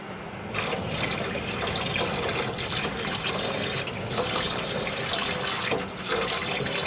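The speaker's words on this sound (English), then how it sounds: "as long as the pump's on, you'll get pressurized water from the hot and cold side" Pressurized water from a motorhome tap fed by an onboard pump gushes steadily in an Auto Sleeper Malvern, a continuous close hiss and splash with slight surges.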